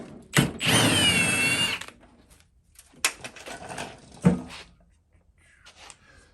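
Press-on nuts being unscrewed from a Ford Bronco tailgate with a power tool: a loud whirring burst near the start, then short, sharp mechanical clicks and rattles spaced through the rest.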